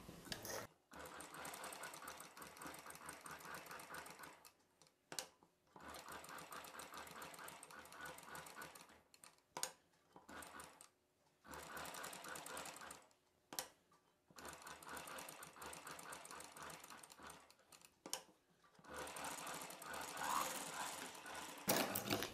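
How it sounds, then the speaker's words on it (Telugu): A sewing machine stitching a child's cotton summer frock around the neck shape, running in steady rapid bursts of a few seconds each, separated by brief stops, close and alone. "మధ్యలో ఒక కుట్టు వేసిన తర్వాత ఇప్పుడు చుట్టూ కుట్టు వేసేసుకోవాలి."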